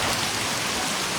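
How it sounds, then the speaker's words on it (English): Heavy rain from Storm Wutip falls on Da Nang in central Vietnam, a steady, dense hiss of downpour that is loud and unbroken for the whole brief moment, with no voices. "Fierce winds and unrelenting rain from Storm Wutip"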